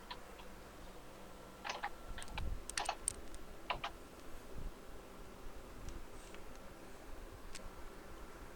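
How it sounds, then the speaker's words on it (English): Scattered clicks of typing on a computer keyboard come in short, uneven bursts, faint and close in an otherwise quiet room. "There are two people typing in questions."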